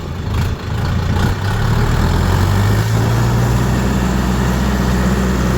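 A DTZ tractor rated at 40 horsepower revs loudly and steadily up close during a speed test drive, its engine drone climbing gradually in pitch as it gathers speed.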